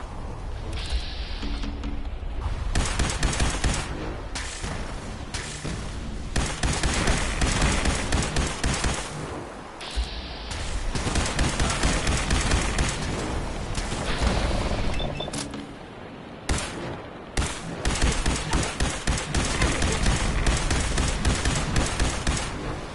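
Fallout 4 gunfire crackles in rapid, heavy volleys and repeated bursts, loud and close, with brief lulls between the bouts of shooting.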